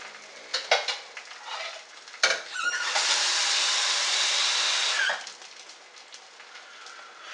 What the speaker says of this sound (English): So let it fry, not too hot.